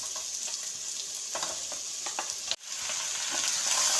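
Chicken sizzles steadily in a hot pan with crushed ginger and garlic, a close, continuous crackling fry with a brief clatter of stirring partway through.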